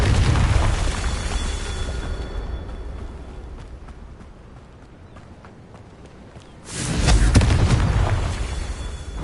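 A Confringo blasting spell goes off in Hogwarts Legacy, a loud booming blast with a rumbling tail that fades to quieter game ambience, then a second heavy explosion surges up near the end.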